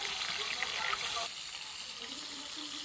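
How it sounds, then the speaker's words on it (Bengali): Fish frying in hot oil in a wok, a dense steady sizzle close by that drops slightly in level partway through. "এটা ভাজছি আমি আজকে একটু মাছ।"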